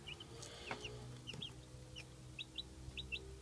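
Two five-day-old Wyandotte chicks give high, thin peeps in short repeated pairs, faint and close, over a low steady hum.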